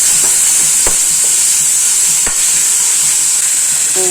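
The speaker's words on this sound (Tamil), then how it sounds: "கருவேப்பிலை புதினா எல்லாம் போட்டாச்சு இது நல்லா வதக்கிடுவோம் வதங்கிக்கிட்டே இருக்கட்டுங்க" Curry leaves and mint frying in a pan for a goat-rib and radish curry give a steady close sizzle with a bright high hiss, broken by a few sharp spoon clicks against the pan.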